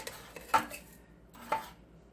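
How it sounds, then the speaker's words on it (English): Two soft scrapes and clinks sound as a spoon scoops sugar and drops it into a grinder, quiet and close, with no talking. "So I'm just going to scoop in a bit of sugar."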